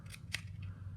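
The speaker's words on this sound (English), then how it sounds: "To get my cone to stick to the paper, I'm going to need to cut some" Scissors snip tabs into paper for a 3-D paper cone form, giving a few crisp close cuts over a quiet room hum.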